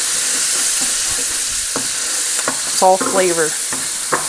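Food sautéing in an Instant Pot, a steady sizzle of frying with a spoon stirring and scraping bits off the bottom, close and continuous; a voice speaks briefly over it.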